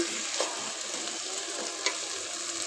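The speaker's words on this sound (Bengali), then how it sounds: "যে সবজি ভেজে ফেলেছি সব দিয়ে কষাই নেব" Already-fried vegetables being sautéed together in a pot for vegetable khichdi, a steady close hissing sizzle with a couple of soft stirring knocks, brief and without talk.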